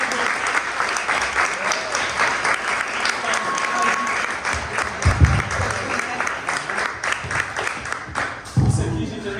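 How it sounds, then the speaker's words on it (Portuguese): A church-style talk-show audience claps in sustained, dense applause that carries on for several seconds, with voices and some cheering mixed underneath. "Muito obrigado pelas palmas, pelo carinho."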